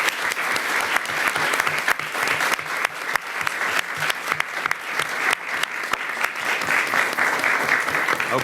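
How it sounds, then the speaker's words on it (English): Loud, sustained applause fills a bill signing ceremony presided over by the New York City mayor, with many hands clapping densely and evenly for over eight seconds. "Let's give them a round of applause."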